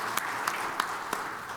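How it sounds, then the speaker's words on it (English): Brief applause at a New York State Bar Association House of Delegates meeting, a steady wash of clapping with a few sharper claps standing out, no talking. "Let's give them a round of applause"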